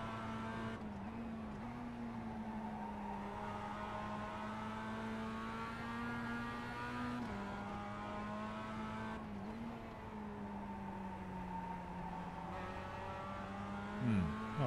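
A race car lapping the Nürburgring Nordschleife in iRacing, its engine holding a steady, droning tone with gear shifts that rise and fall, and a brief tire squeal near the end; no talking.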